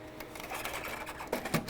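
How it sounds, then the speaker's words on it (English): An Epson ColorWorks CW-C6000 label printer grabs and loads its media with a soft mechanical whirring and a series of small clicks and rattles, close by and fairly quiet, with no talk. "It will grab the media and take it and load it"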